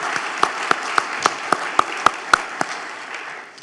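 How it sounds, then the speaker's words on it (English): About ten separate, evenly spaced hand claps at an IWRP quarterly industry day in Charleston. They are fairly close and sharp over a faint background hum, then trail off. "please join me in a round of applause for Mr."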